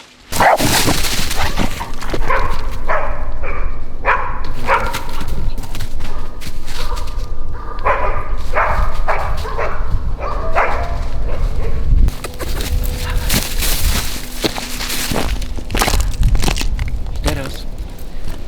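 Hunting dog barking repeatedly during a driven wild boar hunt in the Polish forest, loud and close, in rapid bursts with someone speaking encouragingly over it and birds faintly in the background.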